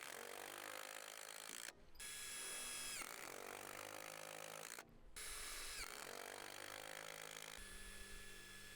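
Impact driver sinking a self-drilling screw into Douglas fir framing on a house build, a sustained loud rattling whir in long bursts with two brief pauses between them.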